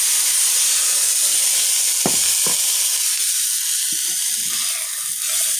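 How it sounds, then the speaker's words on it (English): Breakfast food sizzles and crisps in a hot pan, a steady, loud hiss that runs the whole time, broken by a couple of brief clicks and clatters. "And here are the sizzle."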